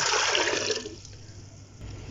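About 1.5 litres of water pours into a pressure cooker for haleem, a loud rushing splash that tapers off after about a second into quieter trickling.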